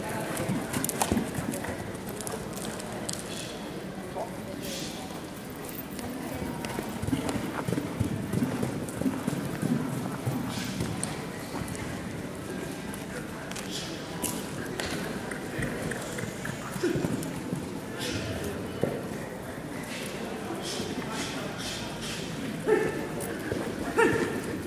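Horse hooves clip-clop steadily over ground for the whole stretch, with an occasional whinny and some distant voices in the background, moderately close and continuous.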